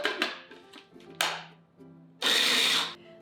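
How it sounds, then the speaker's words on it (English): Raspberries clatter into a container, followed by a loud, close blender whirring in a short burst to the end, pureeing them. "So just put them in a food processor or a blender, and that's it, just raspberries."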